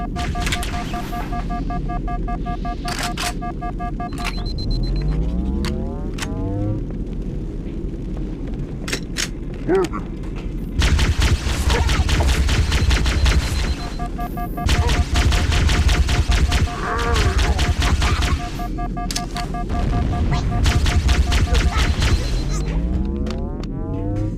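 Explosions and sustained gunfire from battle in Halo CE VR, with heavy bursts of automatic fire and booms repeating loudly over about twenty seconds amid a dense combat din.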